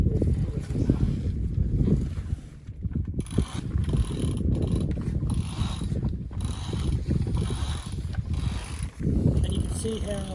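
Sail lines hauled through pulleys while a light-wind sail is hoisted aboard a sailboat, giving continuous ratcheting block and rope noise with creaks and rubbing, fairly loud and close throughout.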